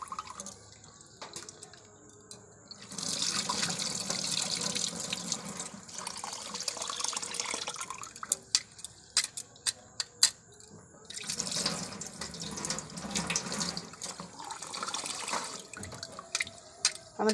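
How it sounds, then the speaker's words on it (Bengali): Nunia rice washed in water for payesh, with bursts of running and splashing water separated by quieter pauses, punctuated by clinks and drips, close-up, no talk. "এখন আমি চালটা সুন্দর করে নুনিয়া চালটাকে ধুয়ে নিচ্ছি।"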